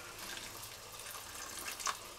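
Water from a kettle is poured into a pot of orzo risotto with vegetables simmering on low heat, a soft, steady splashing stream that rises briefly near the end, with no talk.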